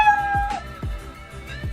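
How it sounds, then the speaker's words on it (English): The default meow of the cat sprite in the Scratch editor plays cleanly, a synthetic-sounding cat cry over a soft background with repeated low thumps. "the cat by default has a meow sound instead of a pop sound"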